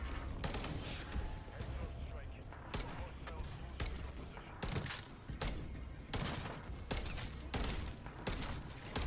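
A submachine gun in Wuthering Waves fires single taps in quick irregular bursts, sharp loud cracks repeating over a dense rumbling game mix.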